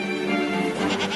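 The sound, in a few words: herd of goats bleating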